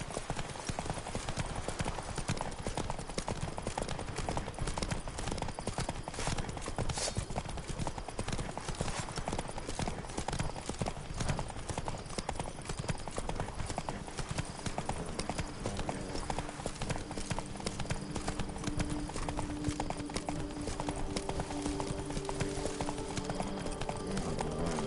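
Roach the horse's hooves clip-clopping in a Witcher video game, a steady rapid rhythmic trot that continues throughout at a moderate level, with a voice speaking over part of it.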